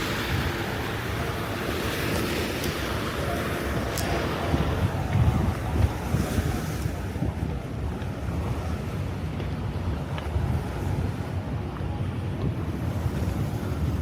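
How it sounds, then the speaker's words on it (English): Waves wash steadily against a New York City waterfront while gusty wind buffets the microphone, a continuous broad rushing with no voices, close and even in loudness throughout. "We got waves."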